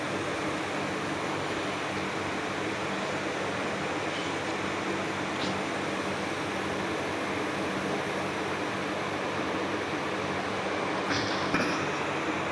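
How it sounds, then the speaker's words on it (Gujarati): Water coming to a boil in a pot on a stove, a steady dense hiss and bubbling rumble that holds unbroken and fairly loud throughout, close by, with no voices. "આપણે જોઈ લઈશું પાણી ધીમે ધીમે ઉકળવા માંડ્યું છે."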